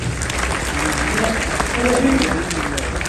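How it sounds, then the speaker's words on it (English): A live audience at an interview event with Khabib Nurmagomedov at Miftah Institution in Canada breaks into a round of applause, steady clapping for about three seconds with voices murmuring underneath. "Round of applause, Abdul Habib"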